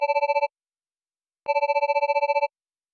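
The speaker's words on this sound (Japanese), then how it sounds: "電話が鳴り出した。" Telephone bell rings in a horror audio drama set in a convenience store, two clear electronic bursts, a short one then a longer one with a trilling pulse, separated by silence and no talk.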